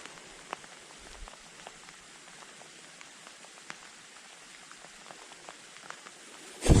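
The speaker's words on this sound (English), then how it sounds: "So lovely having rain with no thunder." Steady rain falls with scattered nearby drops tapping on surfaces, a soft even patter with no thunder, ending in a brief louder knock.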